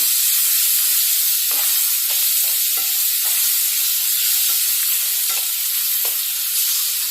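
Steady sizzling in a hot pan with repeated scraping strokes as grated raw mango is stirred and tossed, close and continuous, with no talking.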